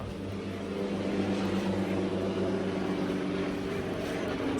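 An airplane flying overhead, a steady low droning engine rumble that stays loud and constant, slowly swelling as it passes.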